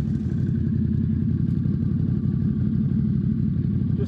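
A Can-Am Renegade XMR 1000R ATV engine revs hard and steadily with a throbbing, clattering drone while the wheels spin and the broken front differential fails to drive, close and loud throughout without speech.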